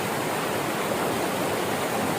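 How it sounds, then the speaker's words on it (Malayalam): Loud, steady rush of water roaring and echoing through the Anchuruli tunnel near Idukki Dam, a constant broadband wash with no pauses and no voices. "ഈ വെള്ളത്തിൻ്റെ ശബ്ദം കാരണം നമുക്ക് ഭയങ്കര മുഴക്കമാണ്"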